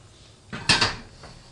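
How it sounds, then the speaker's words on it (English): A wok set down on a stove top set to high heat, a short metallic clatter of two or three close knocks, then quiet with a faint later tap. "Get our wok set down here."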